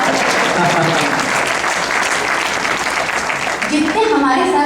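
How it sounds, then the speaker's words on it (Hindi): Audience at a Hindi poetry gathering breaking into sustained loud applause, dense clapping that fills the whole stretch, with voices briefly rising over it near the end. "खुल के बजाइए ताली"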